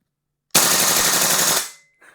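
Umarex HK416 A4 gas blowback airsoft rifle fires one continuous full-auto burst of about a second, a loud, close, rapid mechanical clatter that stops sharply, followed by a faint short hiss.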